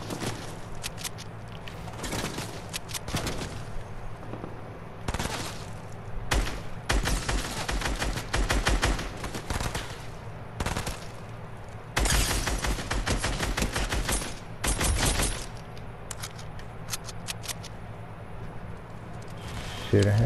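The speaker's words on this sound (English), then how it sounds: "Somebody's shooting at me" Bursts of rapid gunfire in a shooter video game, repeated volleys of automatic fire in clusters with short pauses between, loud and close throughout.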